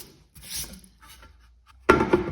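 An aluminium part is sanded by hand with sandpaper at home, giving short scratchy rubbing strokes, first soft and scattered, then a louder burst of rasping near the end.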